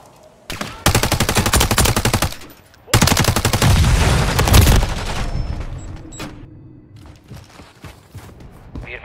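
Sustained automatic rifle fire in Call of Duty Modern Warfare 3 multiplayer, two long loud bursts of rapid shots separated by a brief pause, followed by scattered quieter shots and thuds.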